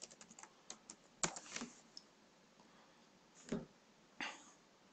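Keys on a computer keyboard tap in a quick, light burst and then a few scattered, heavier strokes, faint and close in a quiet room.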